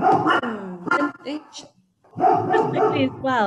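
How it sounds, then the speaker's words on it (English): Pet dogs barking indoors during a women's cricket chat: a few sharp barks burst out near the mic, mixed into a person talking steadily over them. "I'm sorry about my dogs though. They're dying to bark here."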